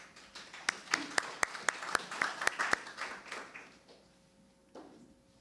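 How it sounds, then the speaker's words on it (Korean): A modest forum audience claps to welcome a speaker to a battery industry session, a few distinct nearby claps over thinner applause that fades out within a few seconds, leaving quiet room tone. "박수로 맞이해 주시기 바랍니다"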